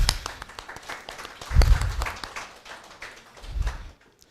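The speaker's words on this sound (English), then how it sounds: "So let us start by giving a big applause to these people here who are trying to reignite the passion for coconut." An audience at a coconut panel discussion claps for the participants, with a patter of scattered hands building to a fuller burst, easing off, then rising briefly again before stopping.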